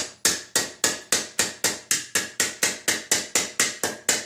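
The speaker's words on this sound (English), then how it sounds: "men have been hammering copper like this for centuries" Copper sheet is hammered by hand for a whirlygig in a steady series of about seventeen sharp metallic blows, evenly spaced and loud, each ringing briefly before the next strike.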